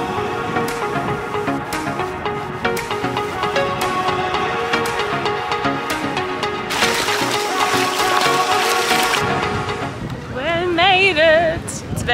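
Strong wind by the sea on a Greek island buffets the microphone steadily and keeps up a constant roar. Faint music plays underneath, and a short warbling sound comes near the end.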